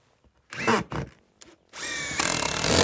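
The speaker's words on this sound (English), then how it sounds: "Let's get some screws where the purlin locations are, but not right underneath of them." Cordless power drill driving screws into purlins on a porch roof build, several short bursts of whirring followed by a longer sustained run, close and loud.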